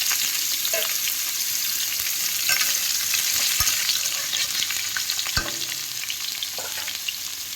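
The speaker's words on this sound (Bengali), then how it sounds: "এগুলো একইভাবে আমি কপিগুলো লাল লাল করে ভেজে নেবো" Cauliflower florets frying in hot oil until browned, a steady dense sizzle throughout with a few soft stirring knocks, close and fairly loud, with no voices.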